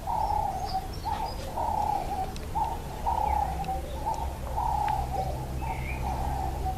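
A pet bird coos in repeated soft, rounded phrases at an even rhythm, close by, with a few faint chirps between the coos.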